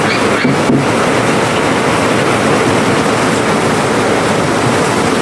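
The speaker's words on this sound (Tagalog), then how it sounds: "Ang lakas ng hangin." Strong storm wind roars continuously at close range, a loud broadband rush with a couple of brief gusty bumps at the start.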